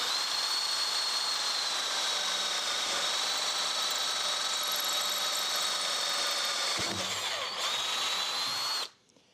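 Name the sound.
drill boring a hole through aluminum extrusion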